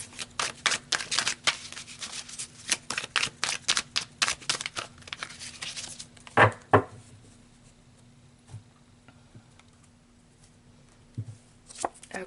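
Tarot cards are shuffled in a run of quick, crisp riffling flutters for about six seconds. A few soft taps and shuffles follow at a lower level, and then the sound goes mostly quiet.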